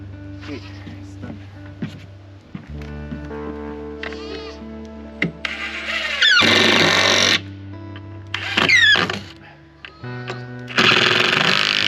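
Power tool driving screws into timber dormer framing at an off-grid homestead build: several loud, close whirring bursts of a few seconds each, separated by quieter gaps with workers talking in between.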